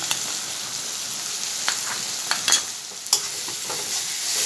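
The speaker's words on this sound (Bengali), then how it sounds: "পেঁয়াজটা অল্প ভাজা ভাজা হয়ে আসছে" Steady sizzling of onions frying in a pan, with a few scattered pops and a light stir or two, close up and without talk.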